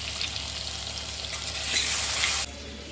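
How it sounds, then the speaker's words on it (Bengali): Diced potatoes sizzle and fry in hot oil in a pan, seasoned with salt and turmeric, for a Bengali matar shaak dish with small kachki fish. The crackle is steady and close, swells briefly, then drops off near the end. No one speaks. "আলুটা মোটামুটি কিন্তু ভাজা হয়েছে, খুব ভালো ভাজা হয়নি।"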